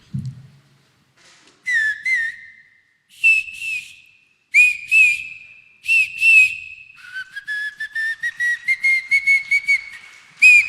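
A person whistles an imitation of an Asian koel call, a series of rising, fluting notes in short bursts that quicken into a rapid repeated sequence, clear and close with no other sound.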